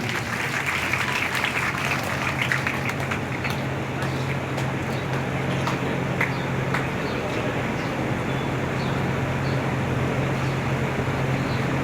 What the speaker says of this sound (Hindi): तालियां जोरदार बनती है।